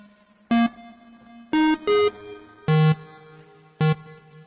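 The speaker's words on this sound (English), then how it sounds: "Or maybe a bit crusher." Short bursts of harsh, gritty bitcrusher distortion on synth notes, five separate hits with quieter tonal tails between them, no voices.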